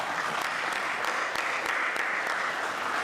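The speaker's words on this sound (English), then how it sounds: "Let's give them a round of applause." Sustained audience applause at a city State of the City address honoring the fire department, a dense steady clatter of many hands from a sizable crowd filling the room throughout.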